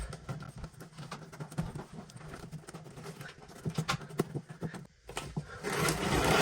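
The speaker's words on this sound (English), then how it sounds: "Now we're going to take our clamp and tighten it down." Rapid metallic clicking and ratcheting, close up, in irregular bursts with brief pauses, as a hose clamp on a dryer vent hose is tightened by hand.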